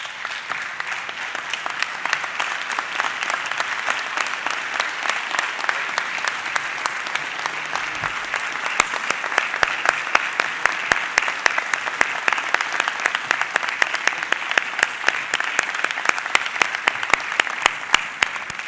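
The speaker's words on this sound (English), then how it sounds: "Let's give our speaker today, Dr. Eddie Glaude, another warm round of applause" An audience at a Morehouse Crown Forum on Alumni Day gives the speaker, Dr. Eddie Glaude, sustained, loud, dense applause that holds steady for almost twenty seconds, with a faint voice underneath.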